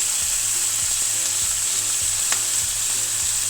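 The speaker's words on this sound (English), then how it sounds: "Now, in with our steak." Steak searing in brown butter in a hot pan gives a steady, loud sizzle with faint spatters throughout, heard alone with no talking.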